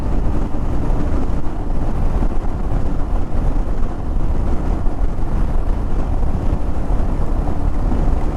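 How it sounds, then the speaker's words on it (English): Strong wind roars continuously over the microphone on a backcountry motorcycle route, a heavy low buffeting rumble that stays loud and steady throughout with no voices. "This wind is crazy."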